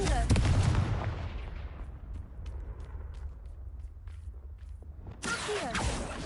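A Confringo fire spell blasts in Hogwarts Legacy: a loud, sharp explosive burst opens the sound, followed by a rumbling, crackling tail and scattered pops, then a second fiery burst near the end.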